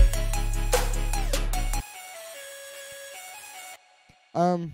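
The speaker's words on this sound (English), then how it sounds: "First one I want to highlight is this vocal stab, which sounds like this." A bright synth vocal stab plays a punchy, rhythmic melody over a heavy bass layer, then cuts off; after a short pause, a single stab rings out alone.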